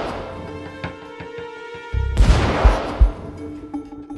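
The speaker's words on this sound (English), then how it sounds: "The explosion is incredibly fast." A sudden loud nitroglycerin blast erupts after a quiet ringing tone, heard slowed down, followed by a rumbling burst and a couple of heavy thuds.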